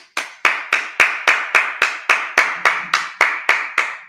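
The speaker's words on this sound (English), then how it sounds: "Clap it up." A Sabbath service congregation claps in unison, about thirteen loud, crisp claps in a steady rhythm, each with a short room echo, with no voices heard.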